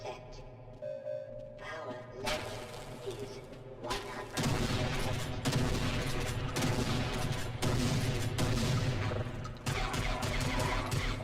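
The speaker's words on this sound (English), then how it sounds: "Shotguns are stupid weapon for that distance." Shotgun fire in Half-Life sounds as several loud, heavy blasts over dense combat noise, with a player talking intermittently throughout.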